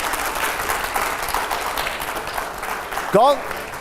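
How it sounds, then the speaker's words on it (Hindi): A studio audience claps at a political interview show, a moderate blur of applause that fades before a short rising electronic sound effect cuts in near the end. "जोरदार तालियां हो पहले"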